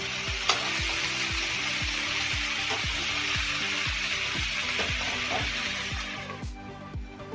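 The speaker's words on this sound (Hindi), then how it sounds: "जब तक ये फ्राई नहीं हो जाए इसको तलते रहिए" Potato, cauliflower and mixed vegetables fry steadily in a pan with dense continuous sizzling and regular stirring scrapes throughout, close and fairly loud.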